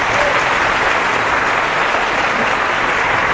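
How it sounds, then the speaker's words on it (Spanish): A crowd at a debate between a priest and pastors gives a steady round of applause, a continuous wash of clapping that holds at the same level for the whole three seconds. "Un aplauso para él."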